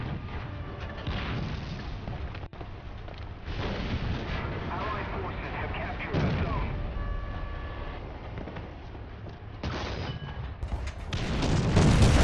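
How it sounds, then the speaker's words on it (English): Artillery strike explosions in a video game, heavy booms rolling in repeated waves over a dense low rumble for several seconds, with a voice talking over the barrage. "I couldn't even run from the artillery strike."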